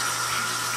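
Tap water running to rinse a graduate for a Cinestill C41 film developing kit, a steady loud hiss and gush of flow, close and continuous for the whole brief moment.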